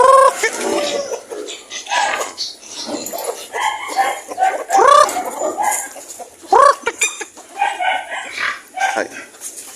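Chickens cluck and squawk in irregular bursts close by, with some barking-like yelps mixed in among the noisy calls.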